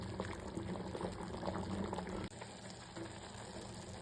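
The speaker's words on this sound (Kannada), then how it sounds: "ಇದನ್ನ ಹೈ ಫ್ಲೇಮಲ್ಲಿ ಇಟ್ಕೊಂಡೆ ಬಾಯ್ಲ್ ಮಾಡ್ಕೋಬೇಕು." Egg biryani boiling hard over high flame in a pressure cooker, a steady close bubbling and seething that runs without a break.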